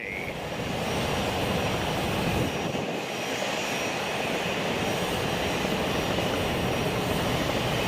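An aircraft departing at Boeing Field in King County produces a continuous, fairly distant engine roar with a broad rushing tone that stays even throughout, with no talk.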